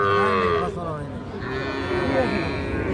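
A Sahiwal bull calf at a cattle market lets out loud, close, drawn-out moos, with people talking and market bustle underneath.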